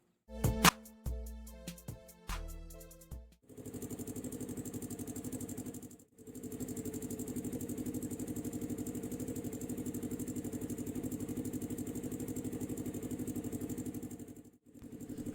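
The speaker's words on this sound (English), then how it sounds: "So I decided to take a run on the Ryker today." A Can-Am Ryker three-wheeled motorcycle starts with a few sharp cranking bursts, then settles into a steady mid-pitched idle heard up close, with a brief break about halfway and another near the end, outdoors in New York.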